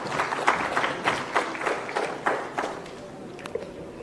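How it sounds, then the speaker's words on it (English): Clapping from the audience at a formal programme event attended by the Chief Minister of Andhra Pradesh, an uneven patter of individual claps, fairly sparse and close, that thins out toward the end. "Round of applause, please, ladies and gentlemen."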